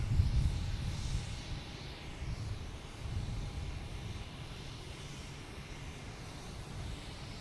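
Delta Embraer E175 jet idling on the ground at Boston Logan airport before taxiing, a low, steady engine rumble with a faint constant whine, heard from a distance with no talking.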